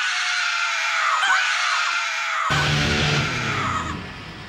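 A woman lets out a long, loud, piercing scream that holds steady for several seconds, with a brief shift in tone partway through before it starts to fade.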